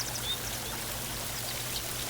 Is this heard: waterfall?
yes